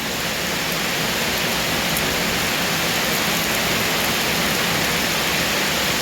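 Steady, dense rainfall pours down close by as a constant loud hiss with no breaks and no voices.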